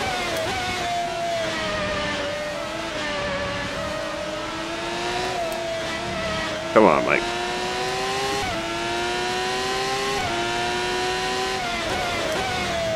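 The V12 engine of a Ferrari 412 T2 Formula 1 car screams in rFactor 2, climbing through gears in repeated high-pitched rising sweeps with brief dips at each shift, loud and continuous, while someone speaks briefly over it.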